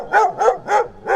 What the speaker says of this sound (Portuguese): o latido de um cachorro de porte grande